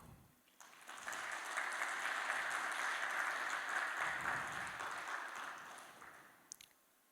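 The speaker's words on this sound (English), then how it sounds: "That deserves a round of applause." Steady applause from an audience at a satsang in a Fiji ashram swells up, holds for several seconds, then fades, with a few scattered claps at the end.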